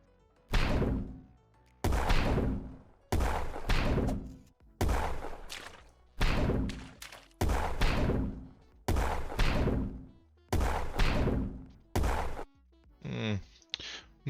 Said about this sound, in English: Not in love with that explosion sound